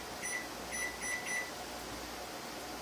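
Kitchen timer being set during green bean canning, giving a short series of high electronic beeps in quick bursts over the first second and a half, then only steady room hum and appliance noise.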